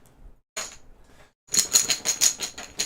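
Plastic game chips are shaken inside a cloth bag during a tabletop board game, giving a brief rustle and then a louder burst of clattering, rattling shakes.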